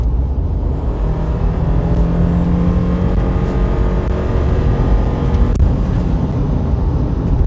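A 2015 Subaru Forester engine revs up hard and close under acceleration, a loud, rough, growling roar that builds steadily with no talking over it.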